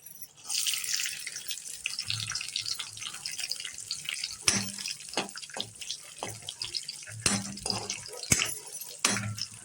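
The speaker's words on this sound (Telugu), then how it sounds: "దీంట్లో ఇప్పుడు మనం కిస్మిస్ వేపుకుందాం." Raisins frying in hot ghee in a pan, a continuous sizzling hiss with crackles and pops scattered throughout, close and moderately loud.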